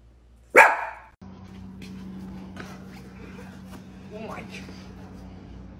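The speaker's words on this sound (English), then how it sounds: "What if I told you that you don't need to bark?" A single loud dog bark, then a steady low hum and faint background shuffling.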